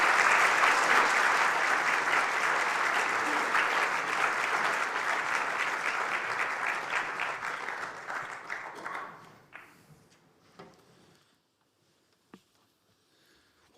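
A festival audience at a Dublin history event breaks into loud, sustained applause to greet a panel, holding strong for about nine seconds before thinning into scattered claps and fading to near silence.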